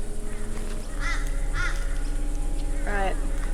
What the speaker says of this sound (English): some crow or like raven thing